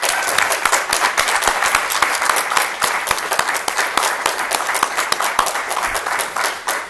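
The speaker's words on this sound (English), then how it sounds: "big, warm round of applause" A large pop-culture convention audience breaks into sustained, loud applause, dense clapping that holds evenly throughout without letting up.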